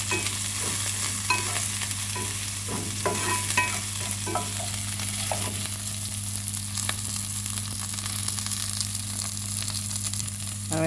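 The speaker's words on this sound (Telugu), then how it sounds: "మనం ఇందులోనే పచ్చిమిర్చి వేసుకుందామండి. ఇందులోనే కరివేపాకు వేసుకుందామండి." Onions, green chillies and curry leaves frying in oil in a pan for masala pasta, a steady close sizzle with scattered stirring scrapes and crackles throughout, no talking.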